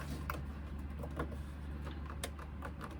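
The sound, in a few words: sewing machine stitching a seam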